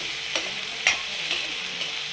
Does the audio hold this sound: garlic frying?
yes